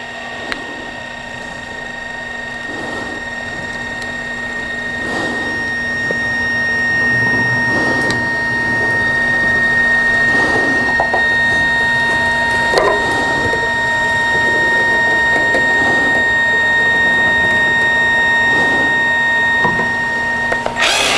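A Creatbot F430 3D printer at work, its stepper motors whirring and buzzing in rising and falling tones with a steady high whine, close and continuous throughout.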